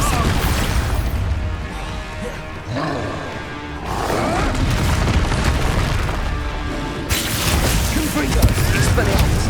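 Expulsion spell explosions in the Hogwarts Legacy video game, with heavy booming blasts and crashing impacts mixed into loud continuous combat noise and music, while character voices call out spells.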